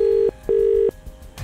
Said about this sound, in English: Let me just get my phone and call him up.